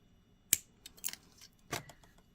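Scissors trim jewelry wire on a beaded necklace, making three or four sharp, close snips with quiet gaps between them.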